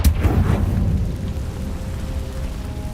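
A Confringo blasting spell explodes in Hogwarts Legacy, a loud booming burst at the start that rumbles and fades into a low, lingering decay over a few seconds.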